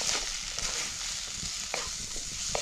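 Roasted flour and peas fry in oil as they are stirred, a steady close sizzle broken by light scraping and tapping from a spoon in the pan.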